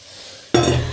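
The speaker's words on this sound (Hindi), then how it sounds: "हमारी आलू भी यहाँ अच्छे तरीके से फ्राई हो गई है और मेरी दाल भी अच्छे तरीके से उबल रही है" Potatoes frying beside lentil dal boiling in a handi pot, heard as a sudden loud burst of sizzling and stirring that starts partway through and continues steadily to the end after a quiet lead-in.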